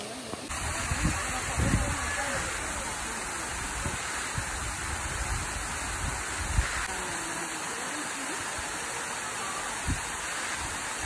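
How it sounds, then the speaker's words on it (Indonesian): Krueng Kaleung waterfall in Aceh Jaya roars with a steady, full rush of falling water that fills the scene from start to end, with voices talking and calling over it. "Iya air terjun, bilang."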